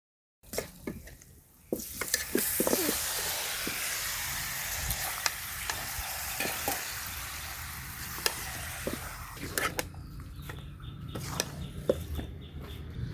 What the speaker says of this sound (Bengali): আমার রসুন ভাজা হয়ে গিয়েছে, এবার মাংসটা দিয়ে দেবো।